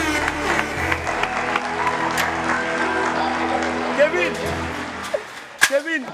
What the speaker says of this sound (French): On va applaudir très fort, s'il vous plaît.